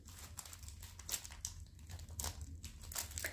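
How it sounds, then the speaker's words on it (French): Soft plastic packaging crinkles and rustles as a costume jewelry necklace is unwrapped, faint and close, with steady crackling and no talking. "Bon, je vais vous le déballer aussi."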